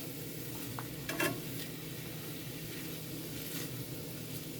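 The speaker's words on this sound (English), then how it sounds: "Once the onions all start falling apart and are sweated out" Onions sweating in a pan, a faint steady sizzle with a brief scrape of stirring near the one-second mark, quiet and close with no talk.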